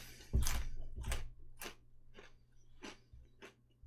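Close-up crunching of a Cosmic Crisp apple: a loud first bite, then a steady series of crisp chewing crunches at roughly half-second intervals with no talking.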